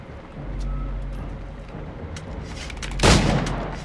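A single pistol shot cracks out loud and near in Assassin's Creed IV Black Flag, standing out sharply against a low rumbling game background with no talking.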